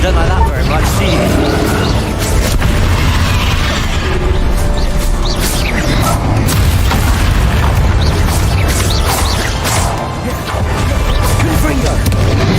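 Repeated Confringo blast spells in Hogwarts Legacy, a steady run of heavy booming bursts and sharp impacts over a continuous loud rumble, with a voice speaking over the action throughout.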